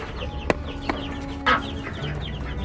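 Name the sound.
broody hen clucking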